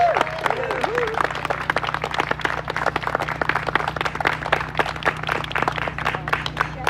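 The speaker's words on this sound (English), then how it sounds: "Give my mother a great big round of applause." A crowd applauds steadily with dense, continuous clapping, close and fairly loud, with a voice briefly heard at the start, at a county bicentennial celebration.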